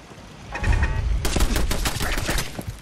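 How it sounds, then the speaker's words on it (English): A Mk1 machine gun turret fires in Fallout 4 as a fast, loud burst of rapid shots, starting after a short mechanical whir and rattling on steadily to the end. "That is a machine gun turret MK1."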